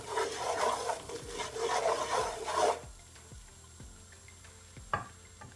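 Flour and melted butter are mixed in a pan for smothered turkey wing gravy, with dense, continuous raspy stirring that stops partway through, then only a few scattered scrapes and a sharp tap. Close up, with no voices.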